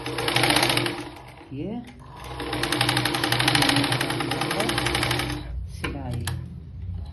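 A sewing machine runs in steady bursts while stitching a blouse sleeve, close and loud, pausing briefly twice, with someone speaking Hindi over the motor.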